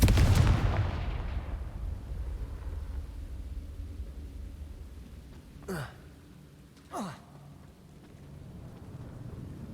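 Two Confringo blasting spell explosions in Hogwarts Legacy burst out a second apart over a dense rumbling game backdrop, preceded by a heavy boom at the start.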